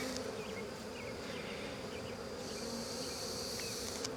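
Honey bees buzz steadily at an open hive during an inspection at a canoe launch, a dense, continuous drone that stays close and even throughout with no talking.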